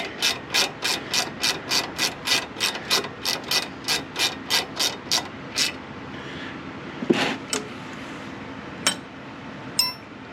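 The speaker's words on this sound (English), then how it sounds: "That ratchet wrench keeps flipping on me." Ratchet wrench clicking while working on the rear brakes of a Fox body Mustang: a steady run of about eighteen rapid, evenly spaced ratcheting clicks, close and clear, then a few scattered metallic clinks and knocks.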